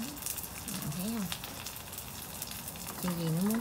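Bánh xèo, a Vietnamese crepe, fries in a pan with a steady, close sizzle and crackle, while someone speaks briefly over it.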